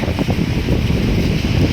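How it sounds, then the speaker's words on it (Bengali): Strong wind gusts at a rainy beach roar steadily into the microphone, a dense, loud rumble with no speech. "প্রচণ্ড হাওয়াও দিচ্ছে সাথে"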